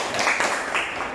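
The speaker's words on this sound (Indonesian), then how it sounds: "tepuk tangan semuanya." Students in a sixth-grade classroom clap together in a dense, steady patter of applause that fills the whole moment, with no talking over it.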